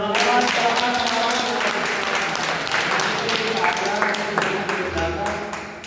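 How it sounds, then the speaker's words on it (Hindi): Audience applause at a spiritual talk, a dense continuous clatter of clapping sustained throughout, with music or voices blended underneath. "सबके लिए तालियां"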